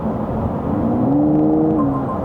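A GWM Ora 07 Long Range electric car pulls away hard in Sport mode, its motor giving a smooth rising whir that climbs in pitch over steady road and cabin rumble, with no talking.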